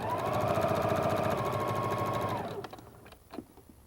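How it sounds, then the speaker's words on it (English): A sewing machine stitches quilt pieces in a fast, even mechanical chatter for about two and a half seconds, then stops, leaving a few faint clicks and handling sounds. "So I can just sew down an inch or two and anchor it."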